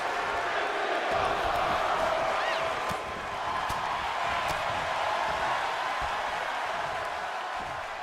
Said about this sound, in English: Crowd is going bonkers.